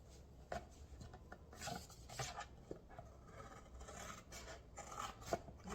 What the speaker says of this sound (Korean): 가위를 가지고 옆면을 잘라보겠습니다.